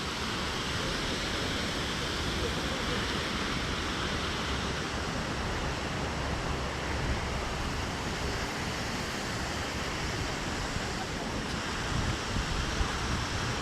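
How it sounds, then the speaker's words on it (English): Downtown waterfalls in Greenville, South Carolina rush in a dense, continuous roar of falling water, steady and fairly close, with no break over the whole stretch. "look at these waterfalls here"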